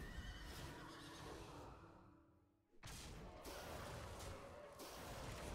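A pony's loud neigh and whinny rings out as a Hearthstone Battlegrounds minion sound effect, a broad burst that dips briefly into near silence before a second full, noisy whinny runs to the end, with no talk.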